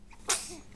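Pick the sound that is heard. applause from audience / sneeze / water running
sneeze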